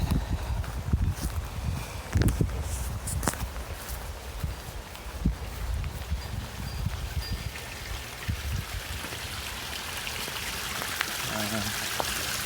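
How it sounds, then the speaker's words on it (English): Water trickles and splashes continuously from a small inlet pipe into a partly iced pond in freezing weather, with scattered drips and occasional louder splashes over a steady outdoor wash. "you can see the water kind of coming out of the little pipe that feeds into the pond"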